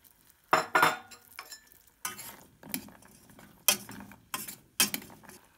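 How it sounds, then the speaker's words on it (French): Caramel stirred with hazelnuts in a pan makes a series of separate scraping, clattering strokes, each a short burst with quieter gaps between them, close by and with no voices. "Quand le caramel est prêt, on le mélange avec les noisettes sans jamais cesser de remuer."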